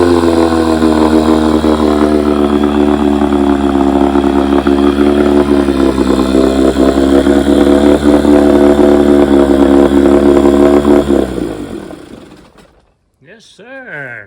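A 1957 Johnson Seahorse outboard motor runs steadily in a test barrel, a loud, continuous buzzing drone that holds for about eleven seconds before cutting off. A brief voice follows.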